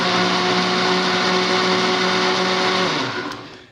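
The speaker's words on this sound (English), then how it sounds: "just put it in the blender, blend it up just like that" Blender whirring steadily through tomatoes for sauce, a loud, close, continuous motor drone that winds down at the end.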